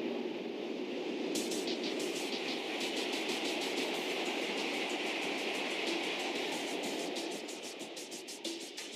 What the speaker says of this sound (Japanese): ミニ新幹線の小町は東京から盛岡まで他の新幹線とつながって走るです。